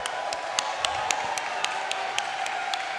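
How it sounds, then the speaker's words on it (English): Audience applause for a Tetris player at a classic Tetris world championship semifinal, a steady wash of clapping with regular sharp claps cutting through, moderately loud and sustained. "Let's get a round of applause one more time for Tristop."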